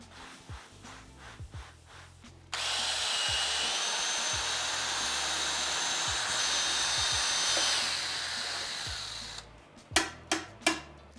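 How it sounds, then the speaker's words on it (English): A paint mixer attachment on a drill mashes in brewing grain for an 1800s Vienna lager, a loud steady whirring burst of several seconds between quieter clunks and knocks. "just how easy the paint mixer makes mashing in"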